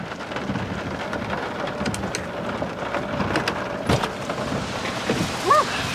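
Steady rain falling outdoors, a dense broadband wash with a few louder splashes and a low rumble, continuing throughout with faint talk and movement nearby.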